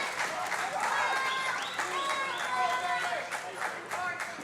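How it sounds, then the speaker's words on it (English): Wrestling crowd at a fatal four-way match cheering and clapping loudly and steadily, a dense wall of applause and shouts close up, with whistles and voices rising over it throughout. "This crowd trying to will Truth Magnum on, trying to get him back to his feet."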